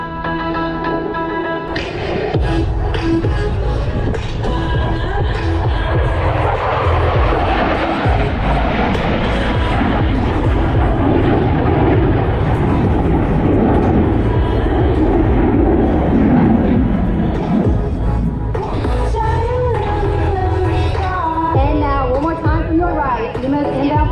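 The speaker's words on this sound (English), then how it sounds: "In from the left, the F-16 and the 4-point roll." A USAF F-16 Falcon fighter jet roars through a four-point roll at an air show, a loud sustained engine rush that swells and shifts pitch, with a commentator speaking over it throughout.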